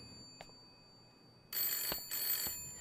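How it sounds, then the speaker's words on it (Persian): A home landline telephone rings in two bursts, loud and close, in a quiet room after a brief soft knock. "مامان تلفن."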